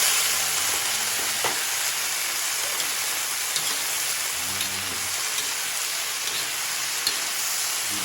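Baguio green beans fry in a pan with a loud, continuous hiss and crackle, broken by occasional soft clatters of stirring.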